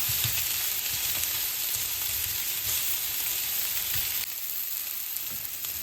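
Shrimp balls sizzle and crackle steadily as they fry in a hot pan, a dense, continuous hiss with small pops and occasional stirring, close and loud throughout with no voices.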